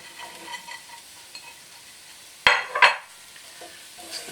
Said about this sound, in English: Let's give those a stir.